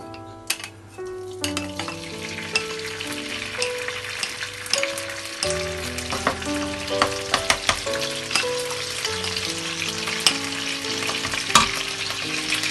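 Small broken pieces of sev frying in pure ghee, a dense crackling sizzle with scattered sharp pops and spatters over a steady bubbling bed, close and continuous.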